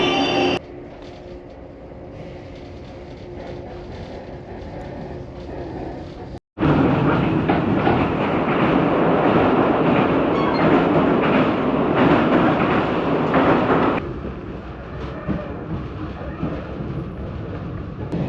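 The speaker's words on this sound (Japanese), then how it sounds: "ホームには岡山方面山陽線直通の三石行きの電車が入線してきました" An electric train on the Sanyo Line rumbles loudly into a station platform, with a steady roar of wheels and motors that swells, then eases off as it slows.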